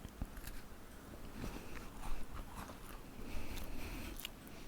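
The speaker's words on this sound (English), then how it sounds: "Dawn is actually eating her crunchy food." Close, crisp crunching of someone eating crunchy food, irregular bites and chews with sharp crackles spread throughout.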